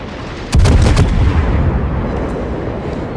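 Secondary guns of a warship in World of Warships, Warspite, fire a loud volley of several booming shots in close succession, followed by a long rumbling tail.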